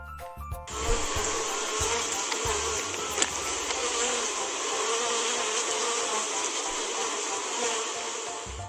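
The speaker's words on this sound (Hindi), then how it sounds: "ये मक्खी की आवाज है यानी कि बी." Bee buzzing as a steady, sustained drone that holds evenly for several seconds, close and moderately loud, with a faint low rhythmic pulse beneath it.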